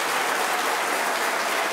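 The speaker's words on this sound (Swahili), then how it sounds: "Wapi makofi kwa Padre Mulei?" A church congregation at a Catholic opening Mass applauds Father Mulei, a dense, loud burst of clapping from many hands that fills the whole short moment, with no talk over it.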